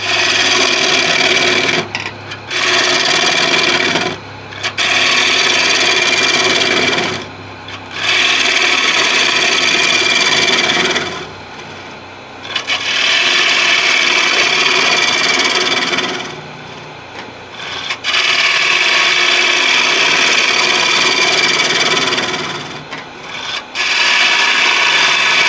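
A wood gouge cuts a bowl on a lathe, loud and close, the rasping shaving noise in long sustained passes broken by brief pauses as the tool lifts away; no talk.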